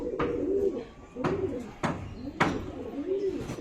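An Andhra Phulshira pigeon gives repeated rolling coos, about four or five swelling phrases, loud and close, with short sharp knocks at the start of each.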